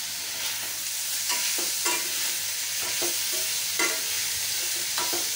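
Mini idli pieces are stirred and fried in a pan, with a continuous bright sizzle broken by repeated short scraping strokes of a spoon against the pan, close and moderately loud, with no voices.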